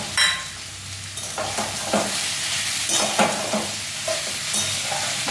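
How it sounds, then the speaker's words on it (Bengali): Bitter gourd fries in oil in a pan, giving a steady loud sizzle broken by repeated scraping stirs of a spatula, with no one speaking. "একটু ভাজা ভাজা করতে একটু টাইম লাগে"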